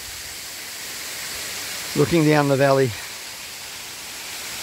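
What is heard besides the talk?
Banyuwana waterfall rushing, Bali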